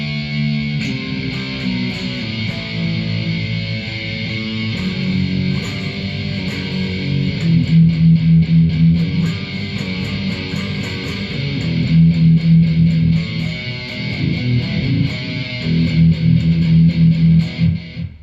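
A distorted electric guitar, heard as an example of how the effect should sound, plays sustained chords and low riffs with a thick, saturated tone, loud and continuous without talk.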